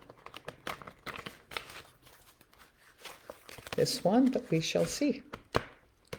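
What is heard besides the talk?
shuffling a tarot card deck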